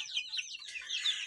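Faint, brief clucking of hens, soft and close together with no voices.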